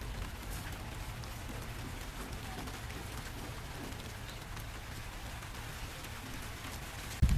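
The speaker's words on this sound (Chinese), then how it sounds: "而且天又在下雨了" Steady rain pattering on a garden plot of young cucumber seedlings, a continuous even hiss with no talk over it.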